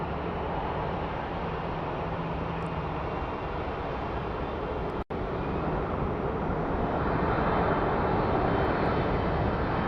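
Propeller airplane at Phoenix Sky Harbor airport, a steady broadband engine roar that holds loud and constant throughout with one very brief dropout midway, no talk.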